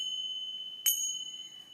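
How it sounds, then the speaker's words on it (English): Tingsha bells closing a sound healing session, a single bright metallic strike that leaves a long, pure, faintly beating ring sustaining quietly to the end, heard alone. "I end this session with the sound of 3 of these tingsha bells"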